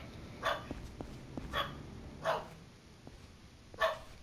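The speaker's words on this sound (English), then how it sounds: "if you hear the dogs barking" Dogs bark in a Yakuza Kiwami 2 game scene, four sharp barks spaced unevenly over a few seconds, moderately near, with faint clicks between them and no talk.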